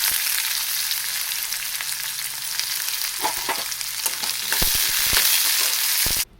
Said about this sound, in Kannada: ಎಣ್ಣೆ ಒಂದು ಸ್ಪೂನು ಸಾಸಿವೆ ಒಂದು ಸ್ಪೂನು ಈರುಳ್ಳಿ ಮೆಣಸಿನ್ಕಾಯಿ ಕರಿಬೇವು ಹಾಕ್ಕೊಂಡು ಒಗ್ಗರಣೆ ಇದ್ದೀನಿ